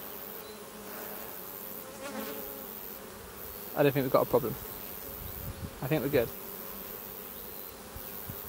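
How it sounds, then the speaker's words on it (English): Honeybees buzzing around an open hive, a steady low drone with louder passes near the microphone, while a person talks briefly over it. "even though I had loads of bees really quite fed up with me, no stings to report"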